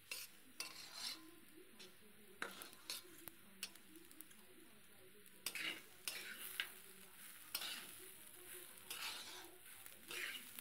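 Rice fried in butter for basanti pulao is stirred in a pan, with a soft steady sizzle broken by repeated scraping clinks of a spoon against the pot.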